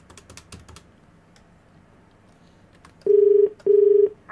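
Quick clicks of phone keys being pressed, a pause, then two long electronic ringing tones sound close and loud.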